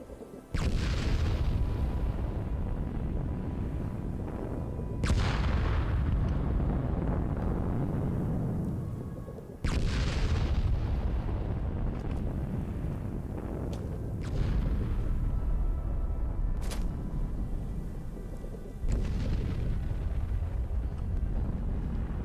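Bombs exploding in the Fallout 76 video game, a series of heavy booming blasts, each one a loud, sharp impact that rumbles down over several seconds, recurring about every four to five seconds with no talking.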